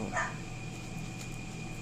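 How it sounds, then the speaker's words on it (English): A dog gives a single short bark near the start, fairly close and moderately loud, over a quiet indoor background with a faint steady hum. "excuse the dog"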